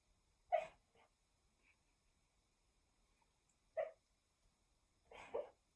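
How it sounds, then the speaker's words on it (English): A dog asleep on a sofa gives a few short snorts or sneezy huffs, spaced out over a few seconds, close but fairly soft against a quiet room. "That is a dog. He's sleeping next to me on the sofa."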